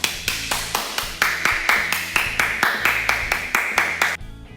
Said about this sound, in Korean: 하나님께 감사의 박수를 크게 올려드립시다